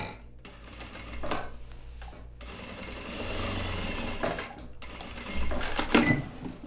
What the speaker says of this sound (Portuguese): Tô pespontando o ombro também.